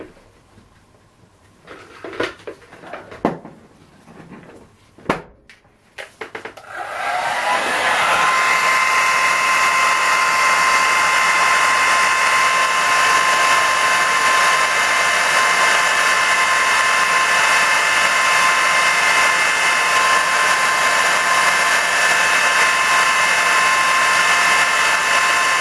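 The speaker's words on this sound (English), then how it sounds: "Then I'm going to use a hairdryer to dry it." A hairdryer blows steadily to dry a resin pendant after a few faint handling sounds, running loud and continuous at close range for most of the clip.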